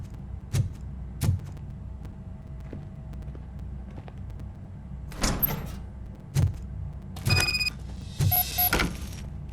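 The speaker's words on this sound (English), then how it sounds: "Now let me get that door open for you." Door opening in the video game Robocop: Rogue City, with a series of sharp mechanical clunks and bursts of whirring and servo noise, separated by quiet gaps.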